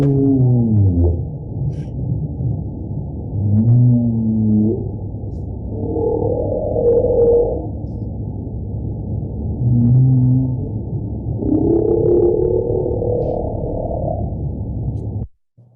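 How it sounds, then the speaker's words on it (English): Humpback whale song units from the species' repertoire: a run of sweeping moans, rising and falling whoops and low grunts following one another without a break, over a steady low underwater hiss, with no talk. "these are some examples of sounds that are in the humpback whale repertoire"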